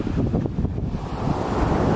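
Intense ocean waves break on a beach in Vieques, Puerto Rico, a loud, continuous rushing surf mixed with gusty wind buffeting the microphone.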